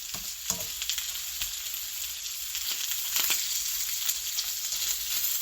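Ground chicken burgers fry in a pan with a steady, bright sizzle, and occasional faint utensil taps sound nearby, with no talking.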